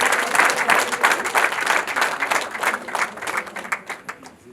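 A wedding crowd claps after a ring exchange, producing dense, lively applause that is loud and close at first and gradually thins out over a few seconds, with voices faintly mixed in.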